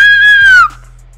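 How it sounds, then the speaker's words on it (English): A woman lets out one loud, high, sustained scream close by, rising then falling and cutting off abruptly after about half a second, followed by a low steady hum. "I'm sorry for screaming in y'all ear like that"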